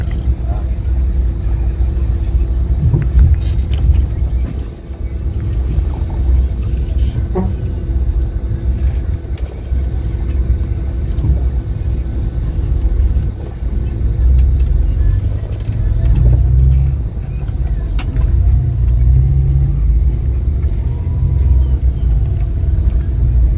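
Interior of a Sempati Star bus with 1-1-1 seating travelling from Pekanbaru toward Medan: a steady low engine and road rumble fills the cabin throughout, with passengers talking over it.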